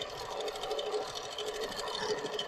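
A longarm quilting machine stitches micro quilting on its frame with a fast, steady, even mechanical chatter and whir, moderately quiet and uninterrupted.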